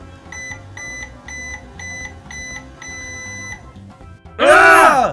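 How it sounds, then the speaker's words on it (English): Steady low hum of a running microwave oven with a repeating pulsed beeping tone over it, ending in a loud burst of warbling noise. "Let's put it in the microwave and turn it on."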